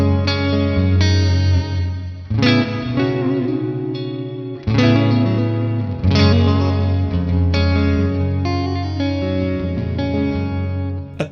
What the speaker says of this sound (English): Then we got another classic reverb, a plate sound.